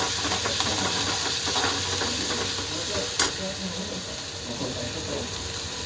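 Onion sautéing with ginger and garlic in a pan makes a continuous crackling sizzle, punctuated by scraping stirs and one sharp clink of a utensil near the middle.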